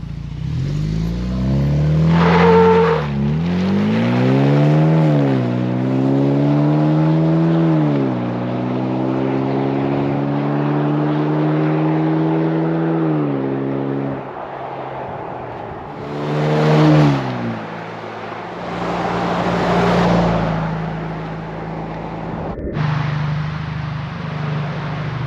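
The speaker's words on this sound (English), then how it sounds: "Tank 300 Calibre exhaust, 0 to 100." A Tank 300 Calibre fitted with a DASH cat-back exhaust and an ECU tune accelerates hard from 0 to 100. The loud engine drone climbs through the gears with short pauses at each shift and stays close throughout.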